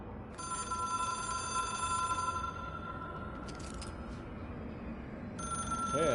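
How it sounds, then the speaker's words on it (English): A telephone in the video game Control rings with a trilling electronic bell in bursts, clear and fairly close, separated by a short pause, over a low ambient hum. "It is a phone."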